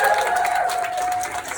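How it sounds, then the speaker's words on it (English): Audience applause for two speakers at a spring community speech event, a loud continuous patter of many hands clapping with a faint sustained tone beneath and a hint of cheering. "Can we get another round of applause"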